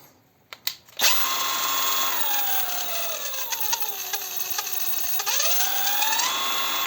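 A SHIDOKU G-1000 cordless impact wrench, just reassembled after a teardown, gives a few short clicks, then spins up into a steady, loud, high motor whine that dips in pitch for a few seconds and rises again, heard close with no voices.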